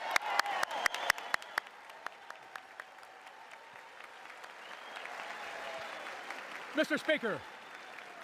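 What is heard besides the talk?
applause in Congress for the president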